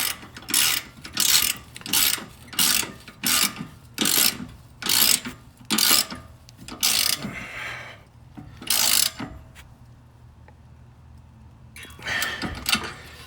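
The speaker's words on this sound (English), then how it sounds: "flip the switch on the wrench, tighten it back up" Ratchet wrench clicking as it tightens the steering wheel nut on a Jeep, close and loud in a steady run of about a dozen rapid bursts, then a brief pause before one last burst.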